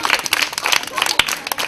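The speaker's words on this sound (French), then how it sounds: "Applaudissez une fois encore." Brief burst of audience applause at a Christmas gathering in Godomey, Benin, scattered clapping from a crowd, fairly close and lively.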